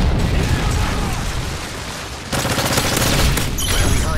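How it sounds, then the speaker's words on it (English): Dense game gunfire and blasts from a Predator missile strike in Call of Duty: Modern Warfare 3 team deathmatch, a steady loud barrage that surges sharply partway through with heavier explosive bursts, no talk. "Friendly Predator missile inbound."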